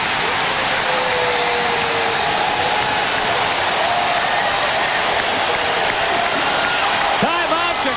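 A Spectrum arena crowd roars loudly and steadily after Hersey Hawkins sinks a three-pointer for the Sixers against the Bulls in a 1991 NBA playoff game, a dense wall of cheering and applause with no break.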